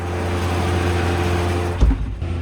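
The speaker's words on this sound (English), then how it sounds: "We're going to give it some throttle. Can you hear that? Sounds a beauty." A Fendt tractor engine hums at a steady, loud idle with a strong low drone, then a brief throttle burst near the end lifts the pitch momentarily during silage harvest work.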